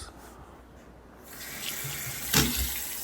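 Water runs from a newly installed bathroom faucet in a steady, hissing rush that grows louder partway through, with a brief splash or knock near the end. No one speaks.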